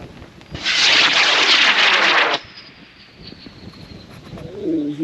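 A model rocket motor ignites at a club fun fly, launching with a loud, harsh roaring hiss that lasts about two seconds and then cuts off abruptly, leaving faint ambient background noise.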